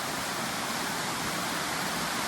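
A bush waterfall in the Carrajung and Blackwarry area roars with a constant, broad hiss of falling water. It is heard up close and fills the short moment without any talking.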